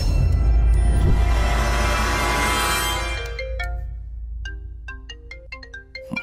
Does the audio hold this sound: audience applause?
no